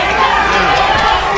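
A crowd at a UWE Huckamania wrestling event cheers for Rika Wildlee in his match against Ashton Blake, giving a loud, continuous roar of shouting fans throughout the short moment.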